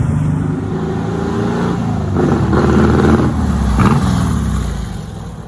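A 1967 Volkswagen beach buggy drives past close by, its air-cooled engine buzzing loudly as it revs up, then holds steady and fades slightly toward the end, with no voices.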